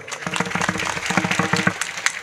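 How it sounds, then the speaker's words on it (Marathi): At a village kirtan, the audience claps for Pankaj in a brief, rhythmic burst of close, fairly loud hand claps that keeps a quick, uneven beat. "एकदा पंकजसाठी टाळी वाजवा एकदा"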